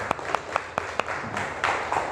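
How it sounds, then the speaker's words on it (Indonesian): A small group in a university classroom claps after a presentation, a few sharp individual claps standing out near the front over a thinner, uneven spatter of applause. "tepuk tangan"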